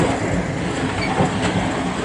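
A train rolls steadily along the rails on a journey toward Samarkand station in Uzbekistan, a loud, continuous rumble with faint clickety-clack close by and no voices.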